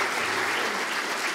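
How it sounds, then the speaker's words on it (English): Dense, steady applause from a congregation at a Sunday worship service, a short continuous burst with no voices standing out. "Give them a round of applause."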